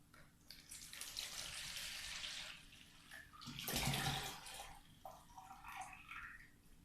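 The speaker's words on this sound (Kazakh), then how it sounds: "Ыдыстағы суымызды құямыз ыдысқа." Water is poured from one container into another vessel in a short series of splashing pours with brief pauses between them, quiet and close, with no voices.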